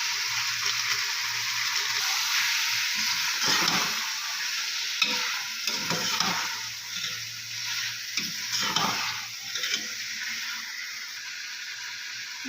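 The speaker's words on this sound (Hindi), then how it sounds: "एक पैकेट हमने निहारी मसाला डाल लिया और इसको थोड़ा सा भून लिया हमने।" Shan nihari masala frying with garlic and ginger paste in a pan, a steady continuous sizzle with a few stirring scrapes, close and alone with no talking.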